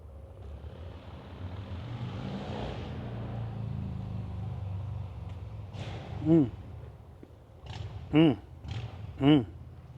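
A TAB Performance Redline Series 2-into-1 motorcycle exhaust rumbles steadily at idle, then three sharp throttle blips roar out near the end, with a voice talking over the low engine drone.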